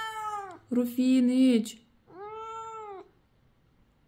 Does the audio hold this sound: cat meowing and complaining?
yes